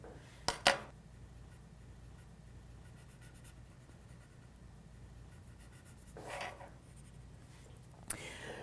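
Gray pencil shading on paper, a soft, quiet scratching that runs steadily in the background, broken by a few light taps and clicks.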